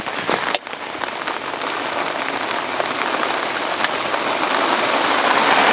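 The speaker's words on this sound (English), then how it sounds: "There comes the rain again." Steady, dense rain patters outdoors at a float-fishing spot, a loud continuous hiss of drops on surfaces that swells slightly toward the end, with no voices.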